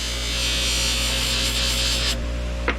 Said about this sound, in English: Same thing, we're just going to keep on polishing.